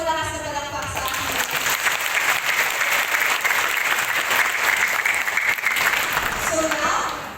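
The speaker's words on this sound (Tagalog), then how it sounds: "Pwede mo bang mas malakas na palakpak sa akin?" Sustained, dense applause from a large audience at a Christian gathering in Ynares Center, Antipolo, loud and steady for the whole stretch before tapering slightly at the end.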